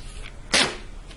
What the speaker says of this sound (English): As you can see, it's a pretty decent duct tape peeling sound.